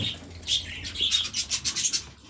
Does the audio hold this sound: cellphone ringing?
no